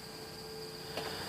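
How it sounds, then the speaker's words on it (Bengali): Crickets chirp after rain in a hill tea garden in North Bengal, a faint, steady high trill running throughout, with a soft brief rustle near the end. "ঝিঝি পোকার ডাক"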